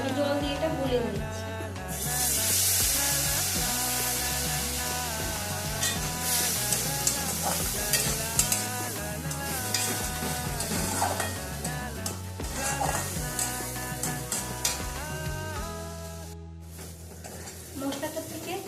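Ground spice paste mixed with water fries in oil with already-browned onions for a loté fish dish. A steady sizzle and scraping stirs go on throughout over background music.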